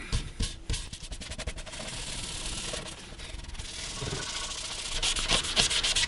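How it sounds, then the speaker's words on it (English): Sandpaper rubbed by hand over stained basswood, rapid close rasping strokes at first that settle into a steady, loud scratchy grind, with no voices. "we can come back and sand most of this out"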